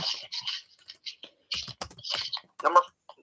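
Fingers typing on a computer keyboard in quick bursts of close, crisp clicks, broken by short pauses.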